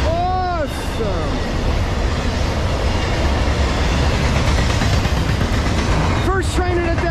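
Norfolk Southern freight train 29G rolling westbound behind a Kansas City Southern ES44AC locomotive, a steady loud roar of rail noise and engine rumble throughout, with horn-like tonal blasts near the start and again near the end.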